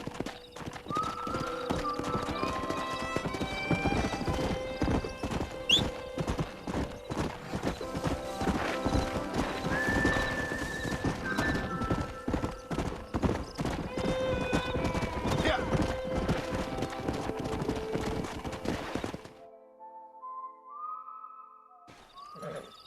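Horses in the video game Red Dead Redemption gallop with continuous rapid hoofbeats and neigh and whinny repeatedly on top of them, with a voice briefly heard, before the hoofbeats cut off near the end.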